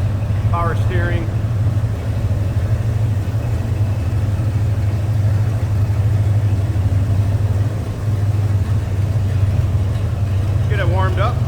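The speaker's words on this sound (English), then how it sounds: "Get it warmed up, runs pretty smooth." A 1961 Ford F-250 4x4 pickup with a 390 V8 and Holley 4-barrel carburetor idles smoothly while warming up, a steady deep engine rumble close by, with brief chirps near the start and end.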